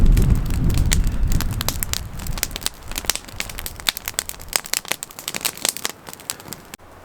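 Dry split wood burns inside a canvas tent's wood stove during winter camping, sharp pops and snaps crackling close and irregular over a low rumbling roar that thins out toward the end.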